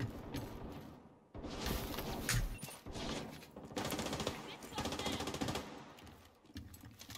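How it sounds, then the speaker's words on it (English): Automatic M60 machine gun fire in the shooter game The Division 2, loud sustained bursts with brief pauses between them and mechanical clatter throughout. "Classic M60."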